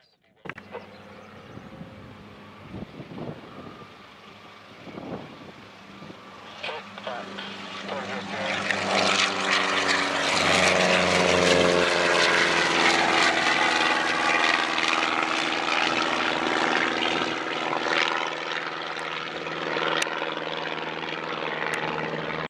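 A modified Lancair propeller airplane taxis with its engine running, starting as a lower drone and building into a loud, steady roaring whine that holds near and constant for most of the stretch.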